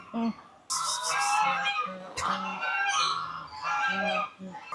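Turkeys at a Wayanad jungle stay give loud, nearby honking gobbles in repeated bursts, several calls overlapping, with a faint voice in the background.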